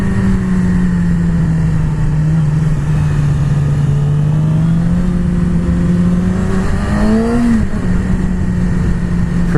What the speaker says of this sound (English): this motor is liquid smooth